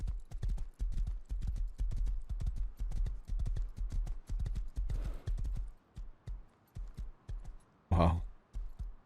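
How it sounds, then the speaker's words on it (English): Horse hooves clip-clop steadily in a video game, a rapid run of loud, close hoofbeats that slows and breaks into spaced steps near the end, with a brief burst of another noise on top. "Stop, horse."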